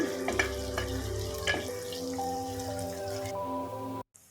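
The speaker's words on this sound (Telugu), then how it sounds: "ఉల్లిగడ్డ వేసేసిన ఈ నూనెలో మంచిగా ఎంపుకోవాలి" Onions sizzle in hot oil with steady frying hiss, stirring scrapes and occasional clinks of a utensil against the pan, close and continuous until a brief cutoff near the end.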